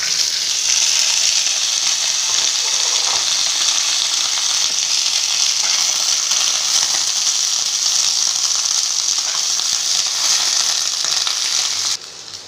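Chopped ivy gourd frying in hot oil in a home kitchen, a loud, continuous sizzle with crackling spatter that holds steady, then dips abruptly at the very end.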